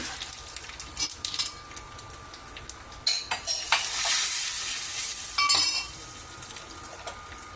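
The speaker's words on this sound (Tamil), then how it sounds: "இந்த எண்ணெய் நல்லா சூடாயிடுச்சு. நான் தாளிக்கிறதுக்கு எடுத்து வச்சுருக்கிறதால ஒவ்வொன்றா ஆட் பண்ணிக்கலாம்." Cumin, vadagam and dried red chillies crackle and sizzle as they hit hot oil for tempering, with spoon clinks and stirring scrapes against the pan, in bursts up close.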